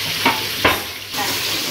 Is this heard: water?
no